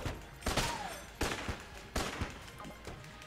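Bursts of rapid gunfire from the Enter the Gungeon video game, three loud volleys about a second apart, each with sharp cracks trailing off, followed by softer shots, with no talk.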